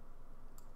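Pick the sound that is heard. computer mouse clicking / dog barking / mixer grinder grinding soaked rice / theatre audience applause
computer mouse clicking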